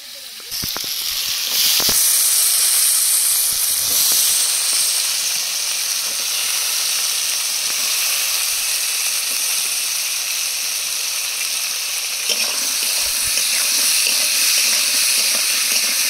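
Potatoes with green chillies, salt and turmeric sizzle steadily in hot oil, a loud continuous frying hiss that holds throughout, with a few brief clatters of stirring near the start and end.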